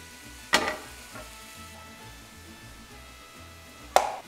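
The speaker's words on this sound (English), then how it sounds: "we're gonna throw in some tomatoes. Let those cook down a bit" Diced tomatoes cook down in a pan for a burrito filling, with two sharp sizzling bursts several seconds apart over a low, quiet hum.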